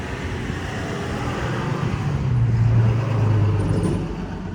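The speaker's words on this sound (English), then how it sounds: "let this truck go by." A heavy truck passes on a roadway, its low rumble swelling to a peak midway and fading again, with steady traffic noise around it and no talk.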